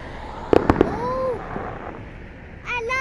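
New Year fireworks go off outdoors with a few sharp bursts and crackles heard from a distance, while people talk and exclaim nearby.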